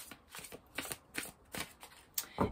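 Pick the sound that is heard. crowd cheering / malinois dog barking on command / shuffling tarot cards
shuffling tarot cards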